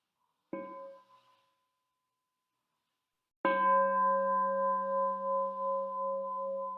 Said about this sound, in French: Nous pouvons écouter un son de cloche pour terminer la petite méditation guidée.